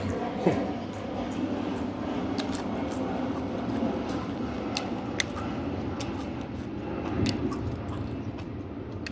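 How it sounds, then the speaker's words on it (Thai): A steady, broad roar of an aircraft passing overhead near Don Mueang, fairly loud and continuous throughout, with faint clicks and ticks scattered on top. "เสียงเครื่องบิน"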